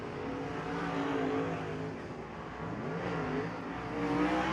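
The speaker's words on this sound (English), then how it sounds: "Got a lot of attitude to that race car." Race car engine on a dirt track at a USAC winter dirt racing event, roaring steadily and loud throughout with rising and falling revs as it laps.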